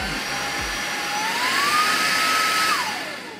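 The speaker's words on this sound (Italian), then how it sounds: "è molto molto sensibile il tasto per far partire l'aspirapolvere" A Proscenic P12 cordless vacuum cleaner runs loud and close, a steady whooshing airflow with a motor whine that rises in pitch midway, then drops slightly as the power shifts near the end.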